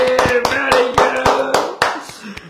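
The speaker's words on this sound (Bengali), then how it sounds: "হাততালি!" An audience at an academy award ceremony for a primary education medal claps in sharp, rhythmic unison, about nine loud beats in quick succession, with a faint voice underneath.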